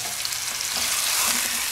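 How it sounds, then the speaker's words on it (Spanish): Chicken breast with sauce sizzles steadily in a pan while being stirred, a loud, close frying hiss with faint scraping throughout. "Bueno, aquí ya está listo el pollo, ya lo hemos sofrito."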